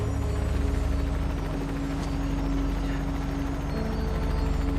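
A helicopter drones with a steady low rotor thrum and engine hum, loud and continuous throughout.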